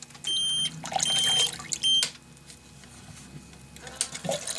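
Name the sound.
Tera Pump TRHA03 water pump beeping when dipped in water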